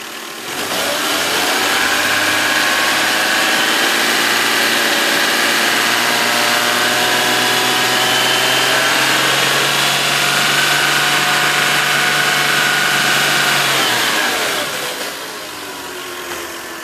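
A Toyota Lexus VVTi engine, just repaired for a leaking cam gear O-ring, runs loud and steady at raised revs for most of the stretch, then its pitch sags as it settles back toward idle.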